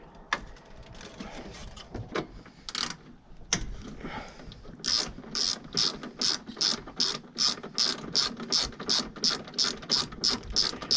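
A ratchet wrench loosens bolts on a Toyota Highlander radiator, with a few scattered clanks and clicks giving way to a fast, steady run of close, crisp ratcheting clicks; no talking.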